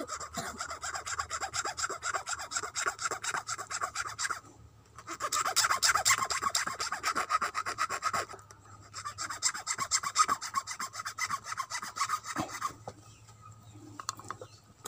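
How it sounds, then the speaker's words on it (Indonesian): Hand file rasping metal to a point while making a shoe-sewing awl, rhythmic back-and-forth scraping strokes in close, steady bursts with brief pauses between runs. "kita runcingkan menggunakan kikir"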